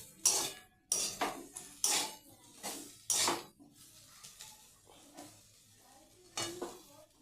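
A metal spatula stirs potatoes and bean seeds frying in a pan, scraping and clanking in a run of loud strokes early on, then quieter stirring under a soft sizzle.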